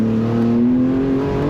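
A BMW M3 sedan accelerating hard, its engine a loud, steady, rising roar held close for the whole moment with no break and no voices over it.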